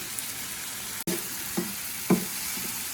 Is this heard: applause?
no